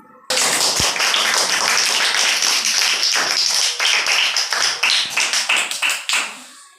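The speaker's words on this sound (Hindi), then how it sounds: "चलिए एक बार जोरदार ताली बजाइए" Schoolchildren in a primary school classroom clap loudly together, a dense burst of applause that starts abruptly, holds steady, then breaks into scattered separate claps before fading.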